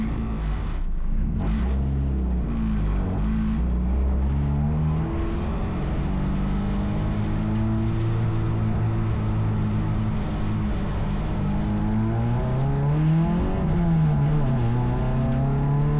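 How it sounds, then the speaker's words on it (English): A fully rebuilt race car pulls out onto Malala racetrack at night, its engine droning loudly and steadily from inside the car, the pitch climbing and dipping through gear changes for sixteen seconds. "peeling out onto Malala racetrack"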